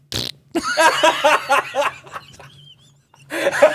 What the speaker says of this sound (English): It's like he farted in my ears